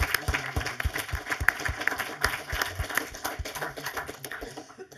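An audience applauds at a German book reading, a dense, steady patter of many hands clapping together that carries on for several seconds.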